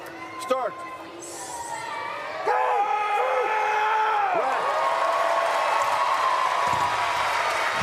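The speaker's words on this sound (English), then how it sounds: "Huge applause from the crowd" Crowd at a Paris 2024 Para powerlifting final breaking into loud, sustained applause and cheering after a good lift, rising partway through and holding steady, with raised voices and whoops in the mix.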